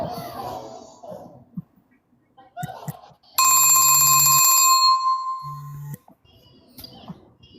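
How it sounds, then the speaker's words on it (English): A telephone bell rings loudly and continuously for about two and a half seconds, with a low buzzing tone underneath, between stretches of quiet conversation on a call. "Sorry, my phone keeps ringing."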